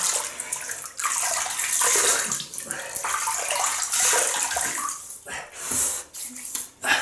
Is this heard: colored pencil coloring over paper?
no